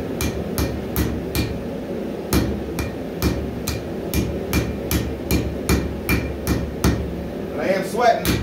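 Hammer blows ring out steadily on a 15 inch fighting Bowie knife being forged, roughly a dozen sharp close strikes in an uneven rhythm over low shop rumble, with a brief scraping clatter near the end.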